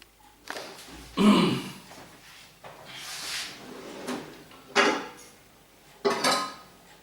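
A cooking pan handled in a home kitchen while making chicken curry, with several clattering metallic knocks and scrapes spread unevenly over a few seconds, close and moderately loud, with no talk.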